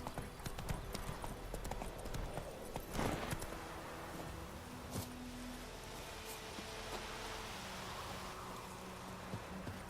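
Hooves of the horse Roach gallop in The Witcher 3 as a fast, steady clip-clop beat under a hissing, rain-like ambient wash, fairly quiet throughout, with one brief swoosh early on.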